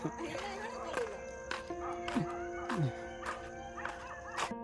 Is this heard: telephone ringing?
no